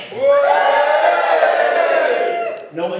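A comedy club audience in Bethnal Green, East London cheers and whoops loudly as one sustained burst of crowd noise lasting a few seconds, then fades out.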